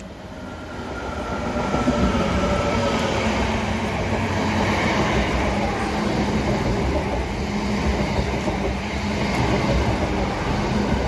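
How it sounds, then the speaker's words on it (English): A freight train running from London Gateway to Trafford Park passes close by with a continuous loud rumble and rattling wagons, steady throughout with no voices. "Got a freight train due, London Gateway to Trafford Park."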